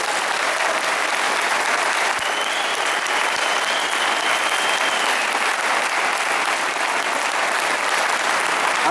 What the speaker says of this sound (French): Une ovation à Fabien Roussel.